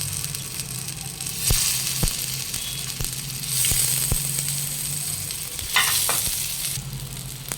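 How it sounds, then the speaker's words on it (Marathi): Sweet corn cutlets shallow fry in a small amount of oil over low to medium heat, giving a continuous close sizzle with a few sharp taps and clinks of a utensil on the pan. "अगदी कमी तेलात ते शालो फ्राय होणार आहे"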